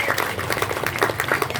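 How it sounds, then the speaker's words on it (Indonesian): A village gathering of women applauding at a constituency meeting, a dense, continuous patter of clapping from many hands nearby. "Tepuk tangan untuk ibu-ibu semua."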